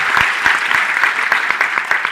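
An audience at a meeting claps in a brisk, loud burst of rhythmic applause, close and uniform, with individual hand strikes clearly separated.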